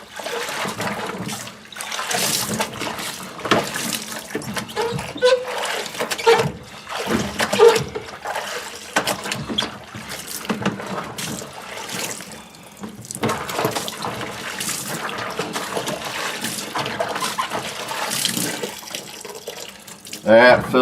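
Water splashing and running as a dirty AEM air filter with 98K miles of use is dipped and rinsed in a sink, irregular sloshing and trickling close by, with talk over parts of it.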